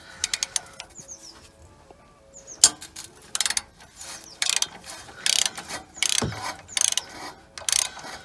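A ratchet undoes the bolts on the crankshaft sensor of a Vauxhall Cavalier with an X20XEV engine, giving close, quick bursts of clicking in irregular spurts, with brief pauses and a few scrapes of metal between them.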